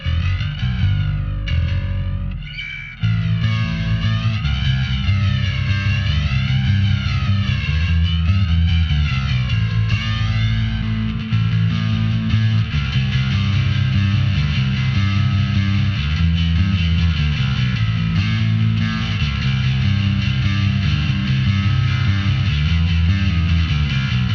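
Bass guitar through a Valeton GP200 multi-effects unit on a custom patch, heavily distorted and sustained, with loose noodling phrases and gliding notes over a steady low drone, loud and alone.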